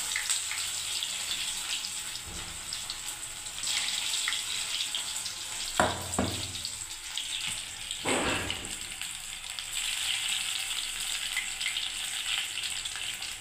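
Bread pakoda pieces deep-frying in hot oil, a steady close hiss and crackle of bubbling that runs throughout, with a couple of brief clinks or splashes in the middle as more pieces go in.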